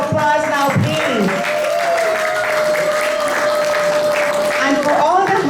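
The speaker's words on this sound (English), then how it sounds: "Give yourself a round of applause now, please." Applause from the audience at a UN high-level side event, clapping running under a sustained tonal sound and some voices, fairly loud throughout.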